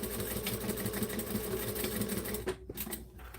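A sewing machine runs a second line of stitching on a bag a quarter inch above the first, whirring in a steady, close, continuous rhythm before stopping briefly near the end.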